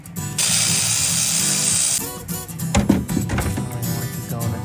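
A power tool runs in one steady, loud whir for about a second and a half while tightening bolts on a glow plug controller fitted to a 1994 7.3 IDI truck. Metallic clanks and handling knocks follow up close.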